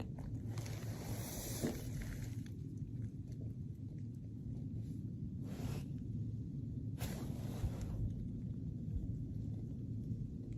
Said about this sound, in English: That's the wind on the side, I think.